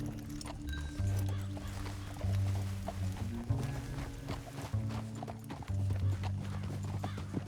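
In the video game Red Dead Redemption 2, horse hooves clip-clop in a steady rhythm over a sustained musical score, moderately close, with occasional snorts and a voice speaking now and then.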